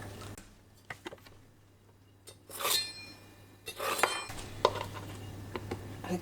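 A knife slices thick cross sections from an onion on a cutting board, the dull blade giving a few sparse crunching cuts and clinks against a quiet background hum, with no talking.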